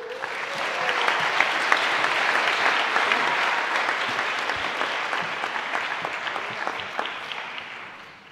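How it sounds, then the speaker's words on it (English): Audience applause at a high school senior awards ceremony, sustained clapping from a large crowd that swells, holds, and gradually fades toward the end. "And you may now applaud that section."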